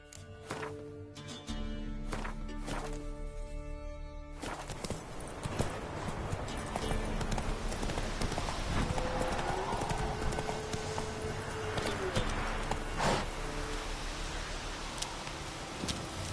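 Roach the horse galloping in The Witcher 3 on PS5, steady rapid hoofbeats over a wash of rain-like noise, with a brief whinny and a voice speaking at times.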